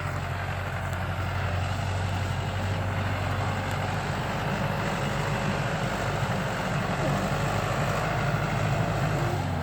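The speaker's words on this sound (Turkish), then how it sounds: "Şu an babam traktörde ilaç yapıyor." A tractor engine runs steadily while spraying a field being prepared for sunflower planting, a continuous low droning hum heard from moderate distance, with no talk over it.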